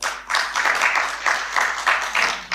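An audience claps in broad, steady applause at a public address by an electoral commission chairman on voter registration. The clapping swells and holds at close to medium distance for about two and a half seconds.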